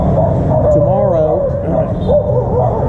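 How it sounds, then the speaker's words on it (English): Several dogs yap and bark steadily and close by, their high excited yips overlapping in a continuous loud chorus. "the dogs are really yapping it up here"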